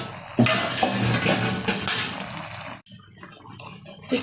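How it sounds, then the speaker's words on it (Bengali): A lid is lifted off a pot of green mango pickle cooking on low heat, bringing a loud clattery burst of metal and bubbling noise that stops abruptly, followed by quieter clinks. "ঢাকনাটা তুলে দিচ্ছি।"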